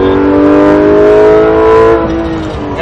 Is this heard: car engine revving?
yes